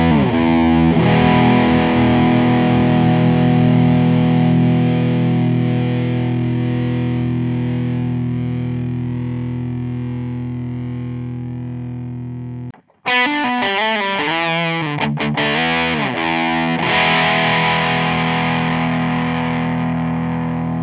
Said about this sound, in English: which makes for this huge sounding fuzz distortion that relies on the saturation of the